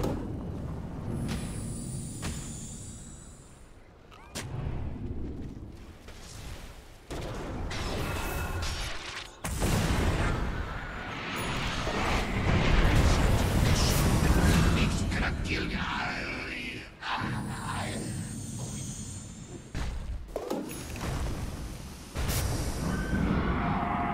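A Dota 2 tower under attack gives off repeated crashes, booms and whooshing hits, layered over busy game effects and a voice announcing throughout.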